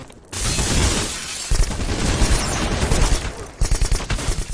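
Rapid automatic gunfire in the shooter game Black, dense bursts rattling almost continuously with short gaps and sharp impacts, loud and close.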